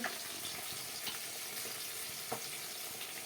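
Spices frying in hot oil for a catla fish curry, a continuous fine sizzle and crackle at low volume, with a few soft clinks as the pan is stirred.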